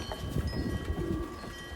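Racing pigeons coo in a loft, soft low throaty calls overlapping in a steady murmur at close range, with a faint steady background hum and no speech.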